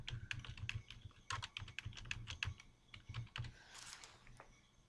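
Rapid typing on a computer keyboard, close and crisp, with irregular bursts of key clicks over about five seconds before slowing to a few scattered taps.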